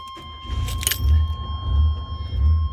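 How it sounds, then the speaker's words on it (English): A car engine cranks and catches after the ignition key is turned, settling into a low, pulsing idle rumble close by, with a brief jangle of keys near the start. "Okay, we have ignition."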